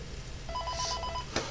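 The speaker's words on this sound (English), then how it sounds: "Answer the phone!" A telephone rings in Five Nights at Freddy's 3, a short string of rapid electronic trills heard faintly over a low background hum, with no talking.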